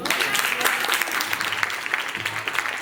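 Audience applause at a baby shower ceremony, a dense burst of clapping from a small crowd, steady and fairly close, lasting throughout.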